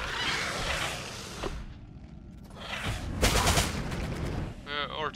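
Rapid gunshots and thudding impacts in the Deathwatch: Tyranid Invasion video game, a loud barrage that eases briefly and then returns, with a voice speaking near the end.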